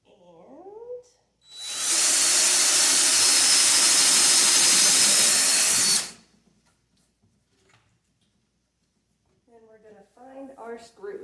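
A power drill whirs into a wooden cabinet in one steady, loud four-second burst, with a person talking briefly before and after.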